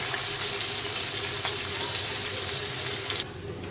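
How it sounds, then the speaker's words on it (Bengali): Chopped onion goes into hot oil left from frying eggs, setting off a loud, steady sizzle that holds evenly and then drops abruptly quieter near the end, with no talking. "এখন ওই তেলে দিয়ে দিব পেঁয়াজ কুচি"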